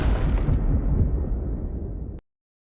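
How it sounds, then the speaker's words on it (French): A single loud explosion bursts out at once, then a roaring rumble fades over about two seconds before cutting off abruptly into silence. "Et comme d'habitude, on termine par une explosion."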